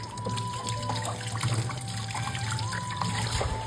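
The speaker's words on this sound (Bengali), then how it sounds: "আমি তো হাতটা ধুয়ে আসি" Hands being washed under a running tap: a steady trickle of water, close and fairly soft, with faint splashing and no talk.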